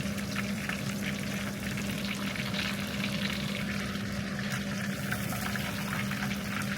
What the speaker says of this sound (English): These schnitzels are so thin, we're only cooking the breading, straight up.